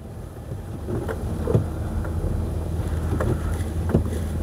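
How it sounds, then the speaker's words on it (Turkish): Wind buffets the car while it drives over a bridge on a snowy road, a steady low roar of wind noise with faint thumps and rustles, heard alone without talk. "Rüzgar da var çünkü orada."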